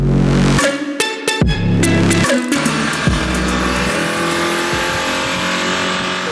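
A Mercedes-AMG E Performance engine with an electric turbocharger revs hard on a dyno, loud and close, with sharp bursts and falling pitch sweeps between throttle blips.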